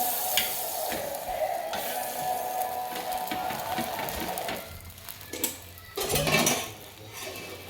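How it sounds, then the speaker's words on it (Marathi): Pav bread warming in butter on a hot pan for pav bhaji, a steady close sizzle with occasional scraping and clinks of a utensil against the pan. "आता आपण पाव गरम करूया. बटर घालून घेतलेलं आहे."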